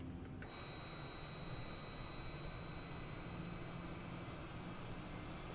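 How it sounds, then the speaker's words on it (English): Boeing 787-9 jet engines spooling up in a flight simulator game during approach with gear down, a steady, loud, continuous roar with a thin high whine throughout. "You can hear the engine spooling up almost immediately."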